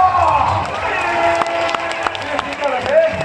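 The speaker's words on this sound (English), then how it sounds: "Please clap your hand for the youngest fire warrior" A crowd claps and cheers for a young fire performer at a night fire show at Lost World of Tambun, with scattered sharp claps under a steady crowd murmur while an announcer talks.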